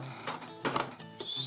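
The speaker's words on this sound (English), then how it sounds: "it's nice when you use the right wrench" A wrench works on the smoke fan motor assembly of a Vision Line 700E Hudson model locomotive, giving short metallic clicks and ratcheting scrapes close up, a few quick bursts over a faint motor hum.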